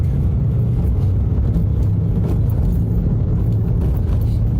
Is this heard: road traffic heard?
yes